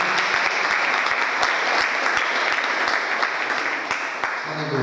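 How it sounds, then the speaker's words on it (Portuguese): Congregation at an evangelical church service giving sustained applause, dense loud clapping with sharp individual claps standing out throughout. "Você pode dar uma chuva de palmas para o Senhor Jesus?"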